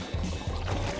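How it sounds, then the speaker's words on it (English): A boat's engines in a video game, giving a steady low rumble with a washy, watery texture that stays close and constant throughout. "Engines."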